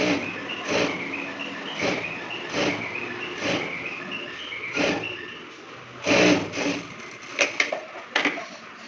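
A sewing machine stitches a half-inch seam joining two cloth pieces of a coat-collar shirt, running in short repeated bursts with brief pauses between them, close and fairly loud, with no talking.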